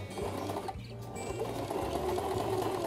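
A sewing machine stitches a dart in a garment, running steadily with a close mechanical hum and rapid needle rhythm after a brief pause.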